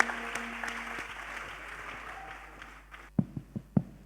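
A church congregation applauds during a testimony service: a steady wash of clapping and crowd noise that thins out, followed by a few loud, distinct claps near the end.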